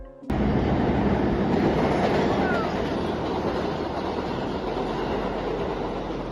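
A loud, steady rumble of a New York City subway train running, with continuous rattling and roar filling the space and a faint high squeal briefly audible.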